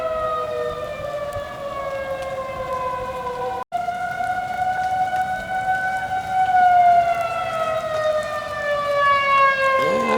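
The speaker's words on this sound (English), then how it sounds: "tornado warning sirens" Tornado warning sirens wail across south Dallas, several rising and falling tones overlapping from a distance in a sustained outdoor drone, with light rain pattering and no voices.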